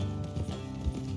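Horse hooves clop on the ground in a quick uneven rhythm under a low, music-like drone, brief and moderately close, in the video game Red Dead Redemption 2.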